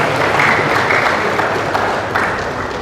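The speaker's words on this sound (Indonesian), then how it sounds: "Beri tepuk tangan kepada Mas Ibra." A talk-show audience breaks into applause for a guest, a dense, loud, sustained wash of clapping that continues throughout without pause.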